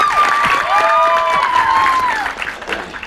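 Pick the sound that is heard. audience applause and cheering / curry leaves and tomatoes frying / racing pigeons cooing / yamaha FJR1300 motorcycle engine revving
audience applause and cheering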